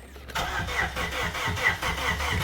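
Plymouth Neon engine turning over on its starter after the abandoned car sat for a long time, a steady rhythmic cranking churn that is close and fairly loud, with no voices.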